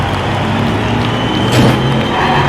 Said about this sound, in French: Un bon départ de la Ford suivi de la Dodge, de la Kia et de la Cupra qui ferme la marche.